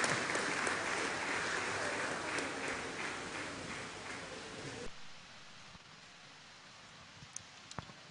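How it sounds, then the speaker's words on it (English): Audience applause in an Anglican church during a choir festival award presentation, a dense, steady clapping from many hands that cuts off abruptly, leaving faint room noise and a couple of small knocks. "Please, let's clap for Mr."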